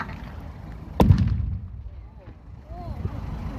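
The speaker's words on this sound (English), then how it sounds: "But there's still artillery fire coming in onto the battlefield" Artillery fire on a war reenactment battlefield: one loud, close boom with a rolling low rumble that fades over a couple of seconds, while a voice talks in the background.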